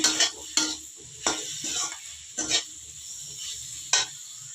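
A spatula scrapes and stirs chopped tomato into a cauliflower and fenugreek-leaf dry stir-fry in a pan, giving several sharp scraping strokes over a soft, steady sizzle, close and alone.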